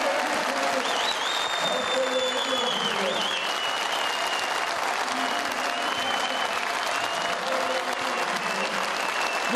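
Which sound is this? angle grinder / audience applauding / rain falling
audience applauding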